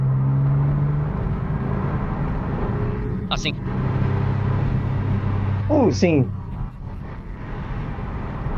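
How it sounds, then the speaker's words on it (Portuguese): A Porsche 996 engine runs steadily outside the car, giving a low, even rumble that holds throughout, while people speak a few short words close by. "Vamos ouvir um pouco do som do lado de fora, não é? E teremos uma noção de como esse carro soa."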